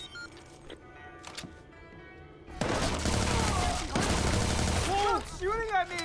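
Gunfire rattles in a bursts-heavy fusillade from the video game Watch Dogs 2, starting sparse and faint, then turning loud and dense partway through, with a voice and whistling game effects mixed in near the end.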